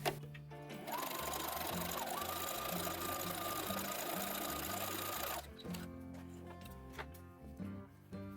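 A sewing machine runs a zigzag stitch along a zipper edge on a jumpsuit, whirring steadily and close for about five seconds, then stopping into quieter handling clicks.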